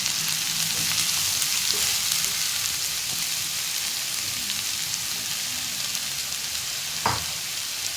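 Mustard seeds and curry leaves sizzle in hot oil for beetroot thoran, a dense, even crackling hiss up close with a sharp pop near the end.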